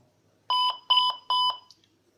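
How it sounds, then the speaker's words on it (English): A brachytherapy system's audio self-test alarm sounds three loud electronic double-beeps in quick succession, bright and tonal, each burst about a quarter second long against near silence. "can the alarm sound from the audio system be heard?"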